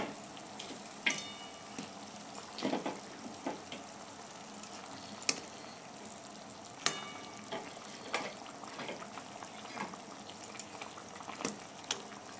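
Fish goes into a pan of boiling water, giving a low bubbling simmer broken by scattered splashes, light clinks and knocks, fairly quiet and close, with no voices.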